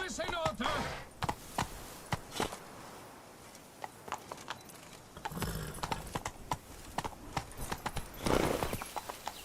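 A horse gallops in the Witcher 3 video game on PS4, with steady, loud clip-clop hoofbeats repeating close by and a few sharper knocks mixed in.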